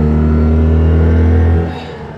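Citroën 2CV engine revving hard while accelerating on a lap of Silverstone, a loud close buzzing drone with strong steady harmonics that drops off sharply near the end.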